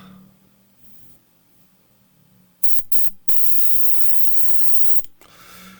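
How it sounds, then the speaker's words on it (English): Airbrush spraying natural metal finish onto an old Airfix B-17 Flying Fortress model kit: a soft background hum, then short loud hissing bursts followed by a sustained spray lasting about two seconds, close and alone. "So here we go, it's airbrushing time."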